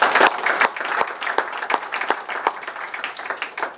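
Audience applause at an evening green and sustainable energy housing forum, dense steady clapping from a crowd with sharper individual claps standing out, sustained throughout at moderate loudness.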